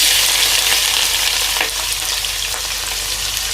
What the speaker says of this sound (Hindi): अभी मैं इसमें प्याज डालने वाला हूँ।